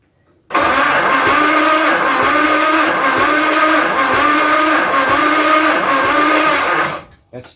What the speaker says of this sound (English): Starter motor doesn't seem to be cranking real quick.